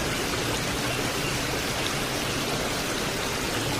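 Floodwater flows through the streets of Clark, Pampanga, as a steady, dense rushing hiss with no breaks, close and fairly even in level, like a fast stream or heavy rain.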